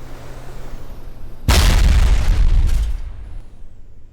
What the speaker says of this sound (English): Oh, it's got a tiny little plasma cannon.